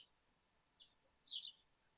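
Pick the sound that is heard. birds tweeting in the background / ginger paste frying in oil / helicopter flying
birds tweeting in the background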